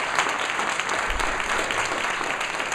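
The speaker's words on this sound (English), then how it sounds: "if you could please give a round of applause for the time taken here this evening to both of these gentlemen." Audience at a chamber of commerce district attorney forum gives a round of applause, a full, even patter of many hands clapping steadily from start to finish without speech.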